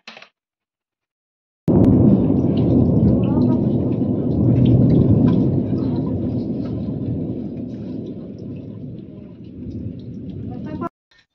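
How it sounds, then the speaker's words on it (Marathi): Light rain begins falling during an evening power cut, a steady broadband hiss that starts abruptly and continues for about nine seconds, loud and close, easing slightly toward the end. "पाऊस चालू झालाय थोडा."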